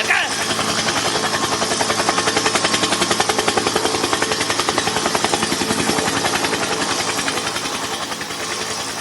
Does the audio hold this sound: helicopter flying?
yes